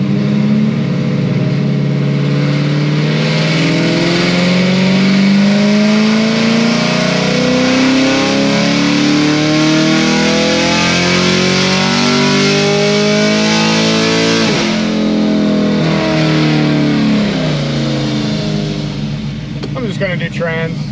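A car engine with closed exhaust valves revs hard through a sustained dyno pull, rising in pitch and loud throughout, then easing off near the end.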